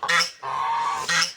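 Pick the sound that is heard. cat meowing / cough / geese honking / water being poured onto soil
geese honking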